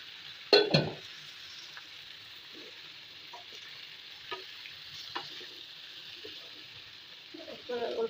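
Pieces of gourd sizzle softly in a pan on the stove, with a clatter at the start as they go in and scattered scraping stirs over a steady quiet fry.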